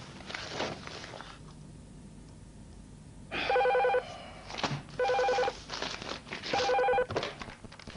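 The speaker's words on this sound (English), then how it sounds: "I came in early in case the phone started going mad." An office telephone rings in repeated double bursts of a trilling electronic bell, three clear rings after a quieter stretch, fairly close and alone without talk.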